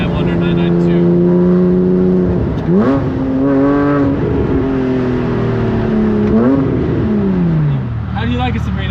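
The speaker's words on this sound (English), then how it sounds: "It sounds more like a Porsche race car than the newer Porsches do." Porsche GT3 exhaust revving loud and close, its engine note climbing and falling through several sweeping pulls with sharp shifts between them, a race-car-like wail held steady over nearly nine seconds.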